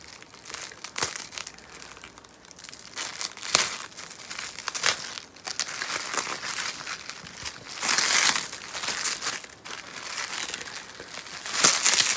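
Packaging crinkles and rustles in bursts while a parcel of Kyubi Naruto Arts dolls is unwrapped, with louder crumpling swells near the end and no talking.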